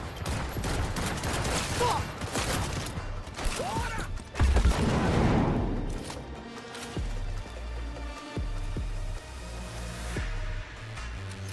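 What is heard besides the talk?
turret gunfire in video game Cyberpunk 2077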